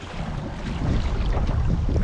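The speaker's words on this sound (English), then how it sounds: "Yeah, it's gusty though." Gusty wind sweeps over a lake in a steady, rushing roar with low buffeting against the microphone, loud and continuous with no voices.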